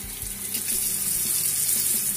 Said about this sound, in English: I'm gonna run it under the water.